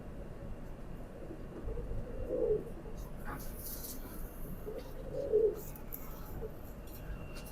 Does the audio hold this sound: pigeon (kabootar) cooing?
yes